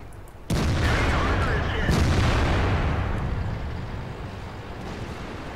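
A tank gun in World of Tanks fires with a sudden heavy boom, followed by a long, loud rumbling roar that slowly fades, with a second blast landing shortly after.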